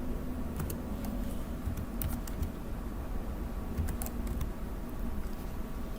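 Fingers type on a computer keyboard in short bursts of light key taps, a few quick clusters spread across the stretch over a steady low background hiss.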